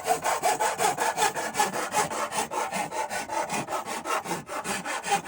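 A hand file works a freshly cut edge during a downdraft hood installation, giving a steady run of rhythmic rasping strokes, close and moderately loud, with no talking.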